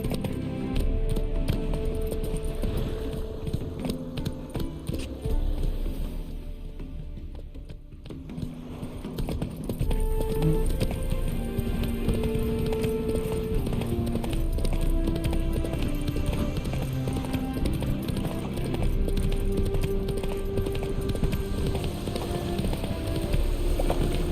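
Hooves of a horse galloping in the video game The Witcher 3 beat in a fast, steady clip-clop rhythm under game music, continuing throughout.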